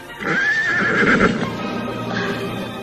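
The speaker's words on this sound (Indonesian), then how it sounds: "Kuda ini tiba-tiba datang dan meringkir-ringkir ribut ketika kami akan mengusirnya." A white horse neighs loudly near a palace gate, a long, close, shrill whinny that wavers and then tails off into a quieter, breathy second call.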